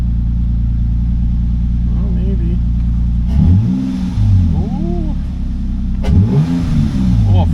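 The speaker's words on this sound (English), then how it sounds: "fire's right up now, at least. We'll see what it does on idle." A 2003 Nissan Pathfinder engine running at idle after a valve cover job, a loud close steady rumble with two sharp throttle blips that rise and fall, and someone talking over it.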